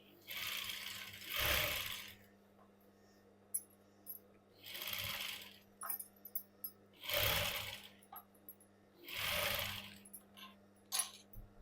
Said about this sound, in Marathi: अस्तर अस्तरवरतीच टीप आली पाहिजे ब्लाऊजच्या वरती टीप यायला नको अशा पद्धतीने टीप मारायची आहे